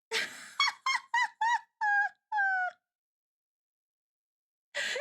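A dog whimpers and squeaks in a rapid run of about seven high, close yelps that rise in pitch, followed by a couple of seconds of silence before one more whine begins.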